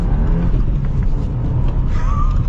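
A 2023 Subaru WRX Premium with a manual gearbox pulls hard at full throttle, its engine a loud, steady low rumble heard from close by with a rising note near the end.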